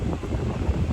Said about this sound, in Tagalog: dito sa tabing dagat ng Kamugaway Beach, lalong lumalakas yung hangin.